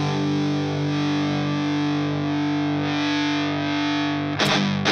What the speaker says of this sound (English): Next up is the TS-808, the classic low gain with that signature pronounced mid-range